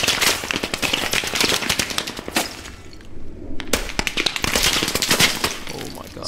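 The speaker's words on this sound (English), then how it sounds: "He's shooting right at me." Rapid gunfire in the Squad video game during an urban fight, dense bursts of close, loud shots with a brief lull midway before firing resumes, talk mixed in.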